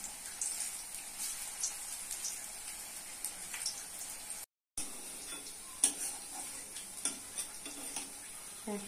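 Battered cabbage and gram-flour pakoras with coriander leaves drop into hot oil and fry with a bright, crackling sizzle dotted with small pops and ticks, broken by one brief silent gap.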